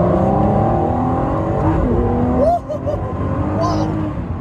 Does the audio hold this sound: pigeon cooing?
no